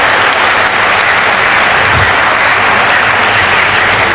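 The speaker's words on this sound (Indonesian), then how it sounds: "mari kita sekali lagi berikan aplaus bagi dua narasumber kita" Sustained, loud applause from a seminar audience in an indoor hall, dense steady clapping lasting several seconds without a break.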